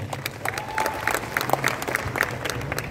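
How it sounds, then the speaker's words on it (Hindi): An audience applauds at an Urdu mushaira poetry gathering in Nizamabad, moderately loud scattered clapping from a crowd with a few brief whoops or cheers mixed in over a low hum. "आप एक मरतबा इन साहबान के लिए पुरजोर तालियां बजाते हैं"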